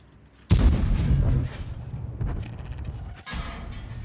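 Artillery shell strikes near a tank in World of Tanks, a loud booming impact at about half a second followed by rumbling debris and mechanical creaking, then a second softer blast near the end.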